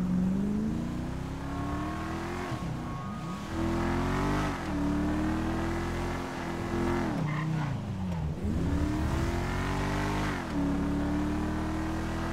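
In GTA gameplay, a car engine revs steadily while driving, rising and falling through gear shifts with brief dips between pulls. The drone is loud and continuous, and faint tire noise sits beneath it.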